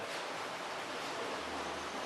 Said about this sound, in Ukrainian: І, друзі, гейзер!